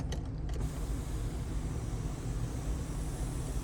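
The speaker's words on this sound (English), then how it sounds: "There is indeed a sunroof, and this will open all the way up." Electric sunroof motor on a Ford truck running steadily as the roof slides open, a low continuous mechanical hum with a brief creak at the start, close and unbroken without speech.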